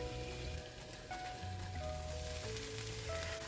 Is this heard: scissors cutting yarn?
no